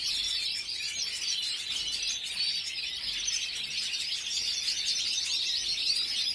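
A pet songbird, a goldfinch-type bird raised by its keeper, sings a steady, continuous stream of bright high chirps and trills at moderate distance, with no talking over it.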